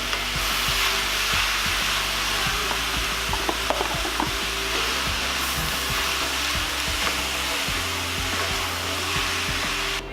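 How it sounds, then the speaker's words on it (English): Ninety-ten ground chuck and a medium onion fry in a pan, a loud, continuous close sizzle broken by repeated scraping and stirring knocks, with no voices. "This is some 90-10 ground chuck. I'm going to add about a medium onion to this. Get it all cooked up."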